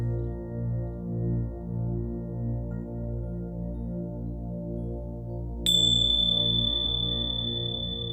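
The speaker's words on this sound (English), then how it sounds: "In a moment, I'll sound a chime to mark the conclusion of this session." A single meditation chime rings out clearly at the close of a mindfulness session, a bright struck tone that sustains and slowly decays over a steady soft background drone.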